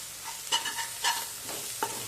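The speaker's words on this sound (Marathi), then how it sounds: "हे जे आपण मसाले घातले होते ते अगदी छान तेल सोडेपर्यंत आपल्याला परतवून घ्यायचे आहे" Spice masala sautéing in oil for a black ghevda bean curry, a steady close sizzle with several rhythmic scraping strokes of a spatula stirring the pan.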